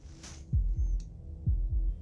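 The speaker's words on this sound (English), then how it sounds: "That was the sound of a heartbeat" Heartbeat in the video game Slay the Princess: two pairs of deep, thudding double beats, the second pair about a second after the first, close and fairly loud over a soft low hum.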